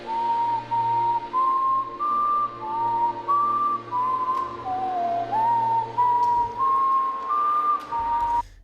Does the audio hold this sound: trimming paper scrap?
no